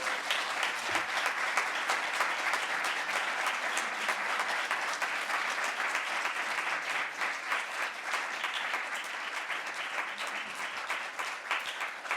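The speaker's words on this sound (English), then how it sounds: "Let's get up and give them a round of applause at this time." A large audience claps at a panel event on Black institutions, producing a long, even, sustained roar of applause that stays at a steady level, with no talk above it.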